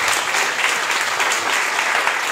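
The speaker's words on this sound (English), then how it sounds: "So a big round of applause for them." An audience at an event gives the organizing team a loud, sustained round of applause, a dense and even clapping with no voices standing out.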